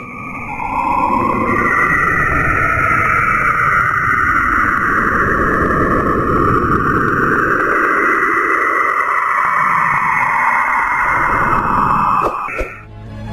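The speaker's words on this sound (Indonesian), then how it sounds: "Cassini menangkap gelombang radio yang diketahui bersumber di salah satu kutub Saturnus" Saturn's radio emissions recorded by NASA's Cassini spacecraft near one of the planet's poles, converted to sound: a continuous, loud, eerie whooshing drone with sweeping tonal whistles that rise and fall, steady for about twelve seconds before cutting off.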